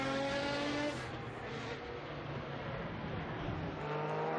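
A historic Le Mans-type race car at the Estoril Classics historic racing event charges past with a loud, sustained engine roar that swells and holds steady, close by, with a faint voice beneath it.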